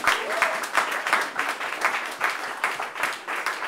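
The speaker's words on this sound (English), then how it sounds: "join me in giving them a big round of applause" Audience at a New York City opening event gives a round of applause: dense, sustained clapping with sharp individual claps standing out, loud and continuous throughout.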